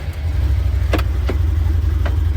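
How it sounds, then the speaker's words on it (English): A 2021 Can-Am Defender HD8 UTV drives along with a steady, loud low engine drone and a few brief rattles or knocks over it; no talking. "now we are in the 2021 Can-Am Defender HD8 and we're going to take it for a drive."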